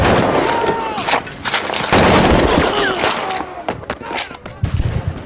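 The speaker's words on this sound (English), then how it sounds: "She orders her troops to start firing." Troops fire guns in a Boxer Rebellion-era siege scene, a dense, noisy clatter of shots and booms blending with shouting and a dramatic soundscape, loud and continuous throughout.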